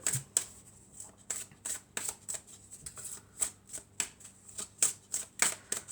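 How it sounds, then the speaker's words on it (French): Tarot cards are shuffled and drawn by hand, making a series of quick, close riffling flicks and soft slaps in an irregular rhythm. No voice is heard. "Alors on va prendre encore une autre carte."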